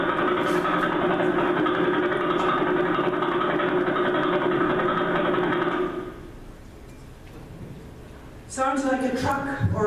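A pulsar's radio signal played back as sound: a rough, continuous rumbling drone, loud and steady like a laboring engine, cuts off after about six seconds, and a voice begins speaking near the end.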